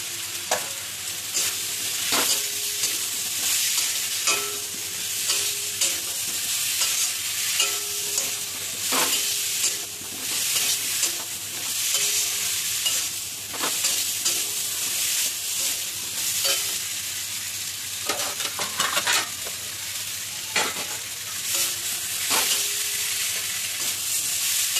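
Eggplant pieces frying with spices alongside potatoes in a pan, stirred by hand, giving a steady close sizzle broken by repeated scraping and clinking strokes throughout, with no talking.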